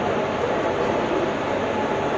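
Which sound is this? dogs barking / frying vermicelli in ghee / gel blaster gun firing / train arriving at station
train arriving at station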